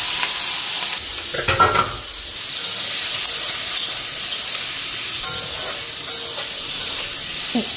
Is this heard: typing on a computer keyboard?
no